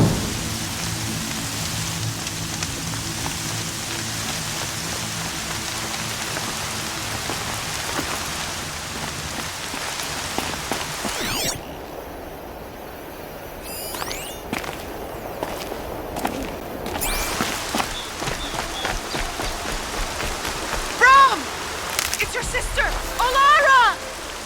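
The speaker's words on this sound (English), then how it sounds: "Rain's not so bad." Rain falls in the video game Horizon Zero Dawn, a steady wash of drops with occasional rumbles and footsteps, easing partway through before game sounds and brief vocal noises return.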